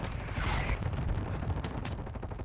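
Very rapid, continuous automatic fire from an STB 556 rifle in Call of Duty: Modern Warfare 2, a dense, steady rattle that runs loud and close for the whole stretch.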